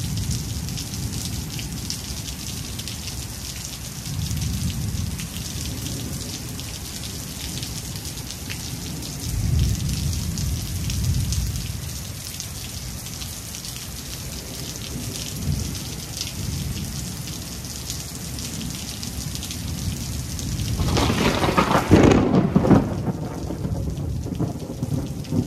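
Constant downpour of rain hisses throughout, broken by low thunder rumbles at intervals and one sharp, loud thunderclap late on, with no voices.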